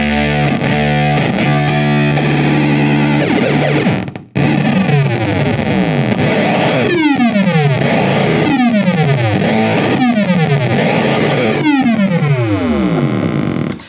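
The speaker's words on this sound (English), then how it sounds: "it's great fuzz. And then it does all the weird synth stuff as well" A guitar runs through a fuzz pedal with synth-like effects, starting with thick sustained distorted chords, then after a short break repeated swooping pitch dives, loud and saturated with no talking.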